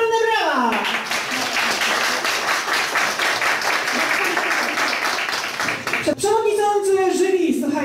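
Audience applause at a Christmas song contest, sustained dense clapping from a large crowd for several seconds, with a presenter's voice over the start and end.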